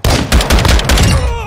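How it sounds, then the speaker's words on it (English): Close-quarter battle rifle gunfire in Modern Warfare 2 multiplayer, a rapid loud burst of several sharp cracking shots in quick succession, ending in a ringing decay. "This is a close quarter combat battle rifle."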